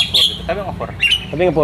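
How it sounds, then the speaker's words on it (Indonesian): Young sooty-headed bulbul (kutilang) at a bird shop gives short chirping, squawky calls, loud and close, mixed in with people talking. "Kutilang masih muda, terpantau lagi mulai belajar bunyi nih."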